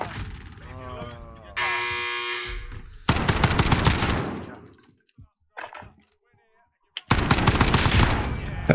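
Call of Duty: Warzone match with loud bursts of automatic gunfire separated by short gaps, a buzzing electronic game tone, and players talking in between.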